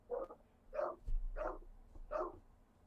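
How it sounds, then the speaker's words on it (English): Dogs barking in a steady run of five loud, evenly spaced barks close by, with a low thump partway through and no talking. "I hear dogs."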